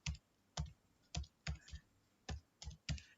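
Computer keyboard being typed on at close range, eight separate key clicks with uneven gaps between them, crisp and alone with no voices.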